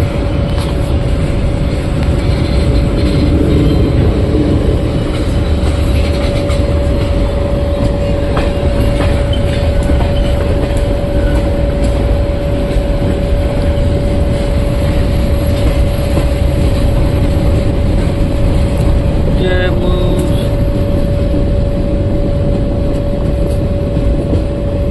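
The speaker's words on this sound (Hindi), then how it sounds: "अब ये गाड़ी धीरे धीरे रफ्तार पकड़ रही है।" The Garib Rath Special Express passenger train runs and slowly picks up speed between Sitapur Junction and Gonda, a loud, steady rumble with a constant tonal hum and faint rhythmic wheel clatter, heard from on board.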